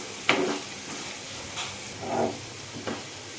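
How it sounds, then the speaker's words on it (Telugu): Onions and green chillies stirred in a hot pan for a fenugreek-leaf and chana dal curry, with soft steady sizzling broken by a few sharp scraping stirs. "మళ్ళీ ఉల్లిపాయ, పచ్చిమిర్చిని కలుపుకోవాలి"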